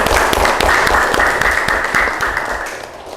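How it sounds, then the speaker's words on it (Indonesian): A classroom of students applauds a classmate during a group discussion guidance lesson, a dense burst of many hands clapping close by, steady for about three seconds before thinning slightly at the end. "Kasih aplaus untuk Santi"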